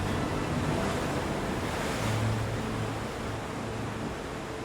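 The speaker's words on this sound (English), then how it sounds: "a mighty wave tosses them into the icy water" Loud ocean surf with a continuous roar of crashing waves and wind, swelling slightly midway before easing off a little.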